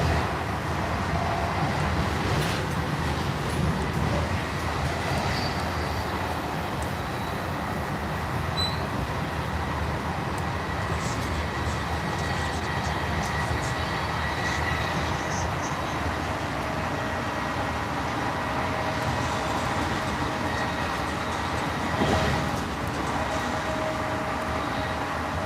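A train rolling out of Penn Station, heard from inside a carriage as a steady, loud rumble of wheels and track noise that persists throughout, with faint squeals now and then.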